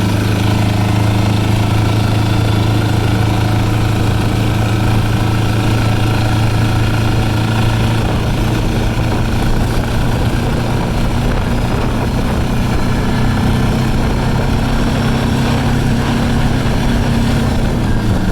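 An Arctic Cat 700 diesel quad bike engine drones steadily while driving through cold wintry conditions, a loud continuous low rumble with a slight shift in pitch partway through, no talking.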